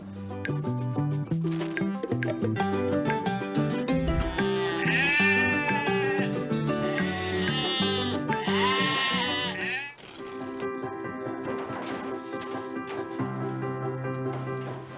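Dairy goats bleat in a few wavering, drawn-out calls, some overlapping, heard over steady background music that continues throughout.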